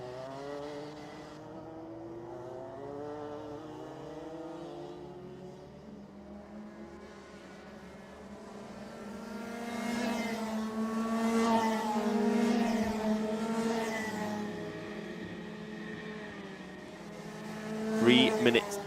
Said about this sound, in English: There you can see Kakers in the blue and green Lando Norris kart.